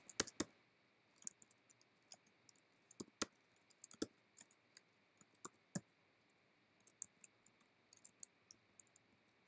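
Keys clatter in irregular bursts of sharp, close clicks while someone types a list of gene names on a computer keyboard, with short pauses between runs over a quiet room hiss.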